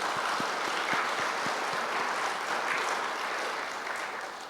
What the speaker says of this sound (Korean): 우리 그런 의미에서 하나님께 박수로 한번 영광 돌리겠습니다